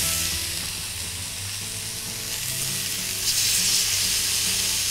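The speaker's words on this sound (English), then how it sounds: "Get your steaks into a nice hot pan." Thick beef steaks sizzle and fry in a hot pan, a steady loud crackling hiss that swells slightly toward the end, close by with no voices.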